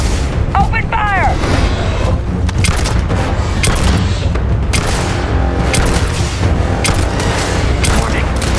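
Heavy gunfire in the sci-fi video game Starfield: dense, loud volleys of shots and booming blasts that continue without a break.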